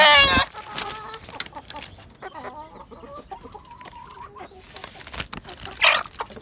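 Hens and other chickens in a covered rooftop coop cluck and squawk, with sharp loud calls at the start and again near the end and softer steady clucking in between.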